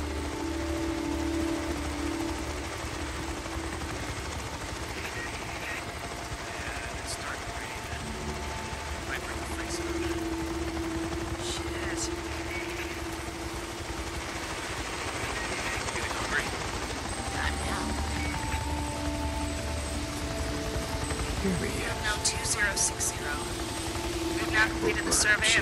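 A helicopter in the video game Days Gone drones steadily through a rainy scene, a low continuous rotor hum with rain patter, and a voice speaks over it.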